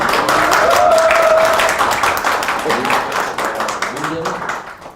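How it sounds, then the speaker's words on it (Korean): Audience applause at a town hall meeting, a burst of clapping that starts strong and gradually thins and fades, with people talking over it. "박수 한번 쳐주세요"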